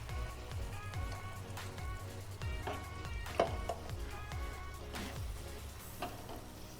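A spoon stirring thick tomato puree in a hot pan, with soft sizzling and repeated light clinks against the metal.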